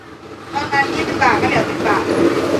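A train departing Nong Tom station toward Phitsanulok, Thailand, rumbles along with low, steady rolling noise and a few tonal squeals from the wheels, and someone speaks over it.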